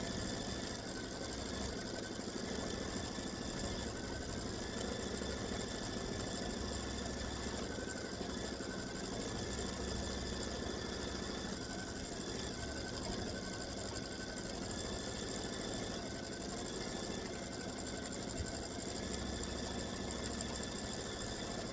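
A quilting machine stitches an edge-to-edge camellia design, giving off a steady, continuous mechanical whirr with a fast, even stitching rhythm and a faint background hum throughout, with no talking.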